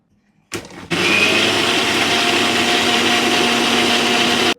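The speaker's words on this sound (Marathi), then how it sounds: "आता याची ग्रीन पेस्ट वाटून घ्यायची आपल्याला." Kitchen mixer grinder blending a green paste of green chilli, mint, spinach, tomato and curd, starting with a short jolt and then a steady, loud, continuous whirring grind until it stops.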